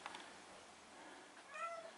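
Street cat meowing indoors, a couple of soft short meows early on and a clearer, higher meow near the end, faint and close with no talking.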